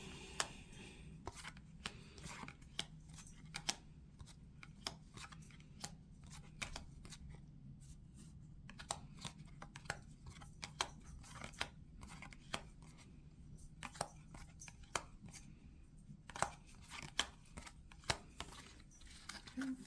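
Tarot cards, a slightly thick deck, are shuffled repeatedly, a quiet run of crisp riffling clicks and soft slides, steady throughout, close by.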